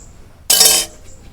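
A lid lands on a cooking pot of tilapia fish curry with tomato and potato, making a single short, bright clink of metal that is fairly loud and rings briefly before fading, with no voices.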